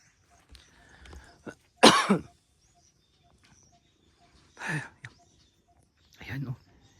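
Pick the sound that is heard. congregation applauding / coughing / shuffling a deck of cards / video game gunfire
coughing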